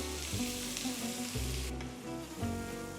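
Loud, continuous sizzling of two finely chopped onions frying in hot oil with cumin, with occasional stirring scrapes, close up and without talk.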